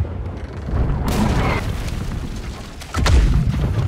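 Ship cannons fire during a naval battle in Blackwake. A heavy boom swells in, and after a sustained rumble a second sharp cannon blast lands near the end, all loud over constant ship and sea noise.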